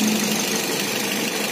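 A 2014 Toyota Vios G with an automatic gearbox and a 1.5 engine idles: a steady, even mechanical hum with a low tone, close and constant, with no talking.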